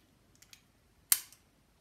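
A small lock clicks shut on metal jewellery: two faint light ticks, then one sharp, close metallic click followed by a tiny rattle, in an otherwise quiet room.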